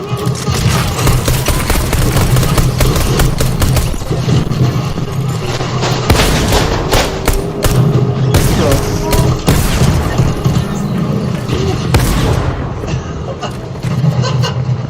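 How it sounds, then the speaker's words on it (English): The SPH explosive launcher in Fortnite firing repeatedly, with heavy booming shots and blasts in a dense, chaotic battle alongside gunfire and clatter, loud and close throughout. "The SPH explosive launcher is brutal"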